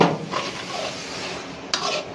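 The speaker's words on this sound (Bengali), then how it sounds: "নাড়াচাড়া দিতে থাক।" A spoon or spatula scrapes and stirs restaurant-style beef pulao in a metal pot, soft repeated scraping strokes with a faint sizzle beneath and one sharp clink of metal near the end.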